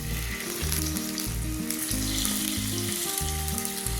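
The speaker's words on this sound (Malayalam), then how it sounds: "നെയ്യ് ചൂടായി കഴിയുമ്പോൾ നമ്മൾ വേവിച്ച് വെച്ചിരിക്കുന്ന ആ പഴം ആ നെയ്യിലേക്ക് ഇട്ട് കൊടുക്കാം കേട്ടോ" Steamed ripe banana pieces fry in hot ghee for Kerala pazham nurukku, giving a steady, close, even sizzle with no voices.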